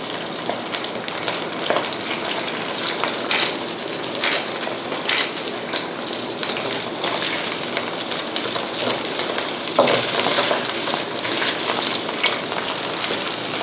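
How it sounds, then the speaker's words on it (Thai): Shrimp frying in a pan for a chili-salt stir-fry, a steady dense sizzle and crackle running throughout with scattered pops, fairly loud and close, no voices. "ทอดแค่พอให้ กุ้งสุกทั้งสองด้านเลยนะคะ"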